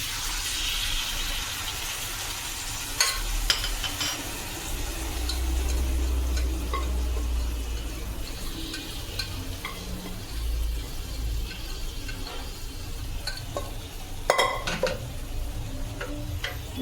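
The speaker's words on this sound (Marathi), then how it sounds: "तर आता याच्यामध्ये आपण भाजी घालूया." Tender jackfruit pieces being stirred into roasted spices in a pan, a soft steady sizzle of frying under scraping spoon strokes, with a few sharper clinks against the pan.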